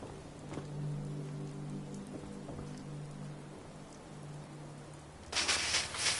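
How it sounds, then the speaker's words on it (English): Steady rain in the video game Fallout 4 hissing on surfaces with faint tonal hums beneath, then a brighter burst of splashing near the end. "Hope this rain lets up soon."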